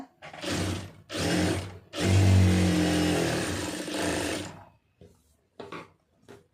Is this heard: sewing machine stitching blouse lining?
yes